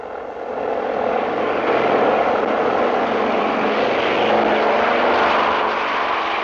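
Propeller airplane at an airport in a 1961 Mexican film, a steady loud droning engine roar that swells in during the first half-second and holds evenly throughout.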